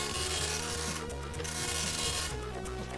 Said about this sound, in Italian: Vi piace il suono della stampante ad aghi?